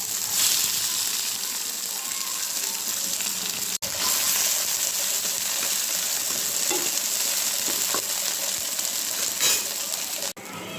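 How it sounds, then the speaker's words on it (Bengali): Koi fish sizzles and spits in oil in a hot pan, a steady hissing fry running throughout with a couple of brief breaks, close and fairly loud. "কই মাছটা ভেজে নিয়েছি"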